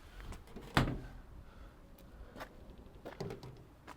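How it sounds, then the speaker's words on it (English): The rear doors of a 2016 Ford Transit Custom 2.2 TDCi van are swung open. A sharp latch clunk is followed by softer hinge creaks and knocks, heard close by. "Doors also come off like so and open to 180 degrees."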